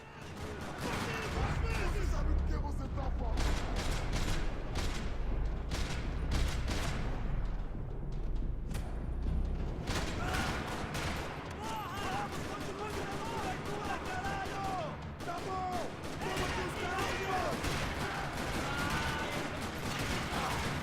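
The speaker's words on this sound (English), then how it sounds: "Another parking lot rattling with gunfire." Rapid bursts of Max Payne 3 gunfire crackle and rattle across a parking lot, loud at first then continuing intermittently, with a voice talking over parts of it.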